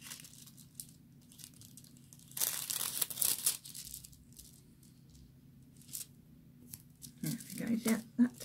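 Tape is peeled back off a sheet of card in a quiet indoor craft setting, giving a short tearing rip in the middle and a brief crinkly pull near the end, with soft handling sounds between.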